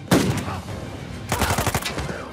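Shotgun fire in Uncharted 4 at New Devon: a heavy blast up close followed moments later by a rapid cluster of shots, loud and punchy against the game's action.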